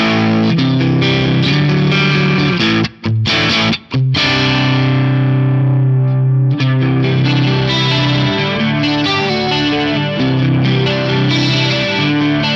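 Electric guitar run through two mono amp blocks on an Axe Fx III, centred rather than spread, playing a long distorted riff with sustained chords and busy picked lines, loud and close, with two brief silent breaks early on.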